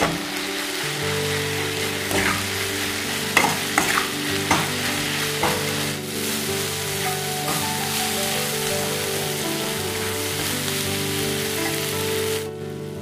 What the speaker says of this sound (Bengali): পুঁই মিটুলি ও আলুগুলোকে খুব ভালোভাবে কষিয়ে নেব